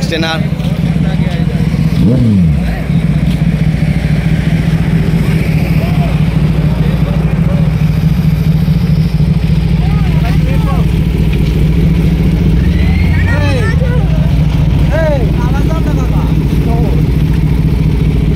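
A BMW motorcycle on a Sunday ride passes close by, its loud engine drone rising in pitch with revving sweeps, while people talk over the noise.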